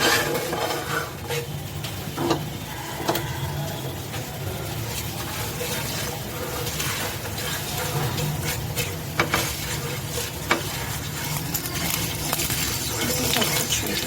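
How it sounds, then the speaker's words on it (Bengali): Mustard seeds, cumin and fennel fry lightly in a pan with a continuous sizzle, dotted with small pops, ticks and occasional metallic scrapes, close and steady, with no talking. "দিয়ে দেওয়ার পর এগুলোকে হালকা ভাজবো।"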